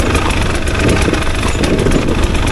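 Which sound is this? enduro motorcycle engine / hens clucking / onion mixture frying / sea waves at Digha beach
enduro motorcycle engine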